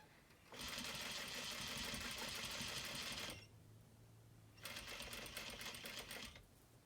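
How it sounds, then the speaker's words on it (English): Sewing machine stitching fabric, beginning with back stitches: a close, rapid mechanical whir runs for about three seconds, stops briefly, then starts again for a second shorter run. "So starting with a couple back stitches just to lock our stitch in place."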